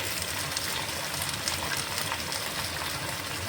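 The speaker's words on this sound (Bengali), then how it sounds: "এবার ভালোভাবে মিশিয়ে নিচ্ছি সবজিটাকে" Giant taro root with salt and turmeric frying in a pan while being stirred, giving a steady, close sizzling hiss that fills the whole stretch with no talk over it.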